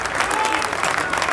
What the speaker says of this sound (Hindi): एक बार चंदन चौधरी जी के लिए जोरदार तालियों से इनका